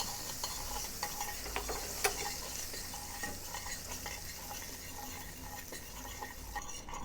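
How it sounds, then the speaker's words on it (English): Butter melting in a pan that still holds a little oil from browning chicken, giving a steady soft sizzle with light stirring scrapes and occasional small clicks, heard alone at close range. "So I have removed most of the oil in the pan and now I added in some butter instead."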